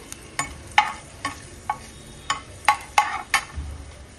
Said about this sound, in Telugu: సో ఫస్ట్ ప్యాన్ పెట్టుకొని ఆయిల్ వేసి ఆయిల్ హీట్ అయిన తర్వాత అల్లం వేసుకోవాలండి